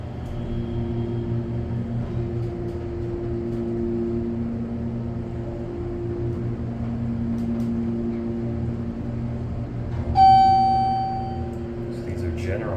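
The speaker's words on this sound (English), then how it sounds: "So these are general elevators with a nice motor." A General hydraulic elevator at a Sarasota, Florida hotel runs its motor with a steady low hum and drone throughout, ending in a single bright chime near the end.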